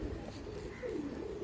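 Pigeons, high-flyer pigeons being fed grain, coo softly as they come down to land, giving a brief low warbling call close by over quiet background noise.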